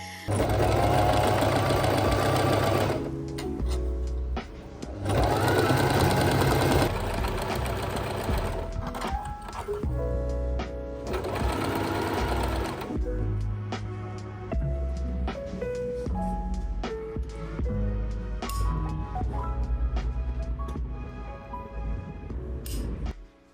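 A sewing machine stitches a breastfeeding-friendly summer top, running in long steady whirring, knocking bursts close by, easing off briefly now and then before speeding up again.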